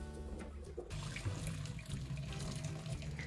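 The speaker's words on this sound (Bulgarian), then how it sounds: "Готови сме вече да изхвърлим първата вода." Cooking water from boiled greens poured out into a sink, a steady rushing splash of liquid that runs continuously and close by, with no talking.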